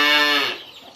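A year-old Belgian Blue cow gives a single loud, close moo with a rich harmonic tone that fades out over about a second, with no talking.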